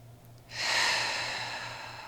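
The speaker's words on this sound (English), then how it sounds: "Last inhale and exhale here." A slow breath during yoga practice, drawn in or let out audibly and close, swelling after a quiet start and sustained steadily to the end, with no talking.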